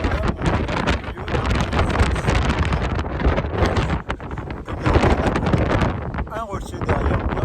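Strong wind buffets the microphone on a mountain pilgrimage trail between Saint-Jean-Pied-de-Port and Roncevaux, a loud continuous roar and rumble with brief dips, close and steady throughout.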